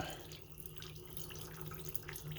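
Fuel drains from the fuel line of a 1975 Porsche 914 in a faint, steady trickle of liquid that runs without a break, with no one talking.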